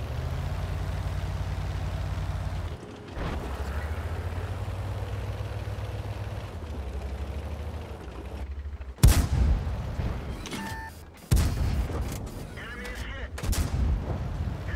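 Tank cannon fire in World of Tanks: two sharp, heavy blasts ring out over a constant engine rumble, with a few lighter impacts after them and brief talk in the background.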